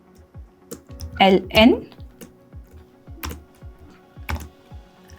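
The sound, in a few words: typing code on a computer keyboard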